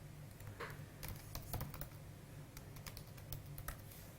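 Computer keyboard typed on in short irregular bursts of crisp key clicks, faint and close against a quiet background hum, with no speech.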